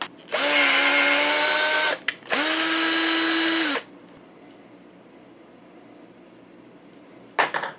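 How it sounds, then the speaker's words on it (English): A power drill whines loudly in two long bursts, boring a hole in sheet metal, with a brief pause between, then stops; a sharp metallic clink follows near the end. "take a piece of sheet metal, drill a hole"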